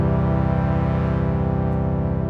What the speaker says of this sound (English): That's a sweeping effect that's taking place. Using a phase setting,